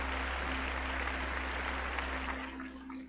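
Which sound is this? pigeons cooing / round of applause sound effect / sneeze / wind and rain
round of applause sound effect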